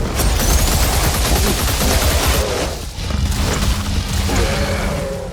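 Rapid gunfire from a boomer shooter video game roars almost without a break, with dense loud bursts, a short lull near the middle, then more firing over rumbling explosions.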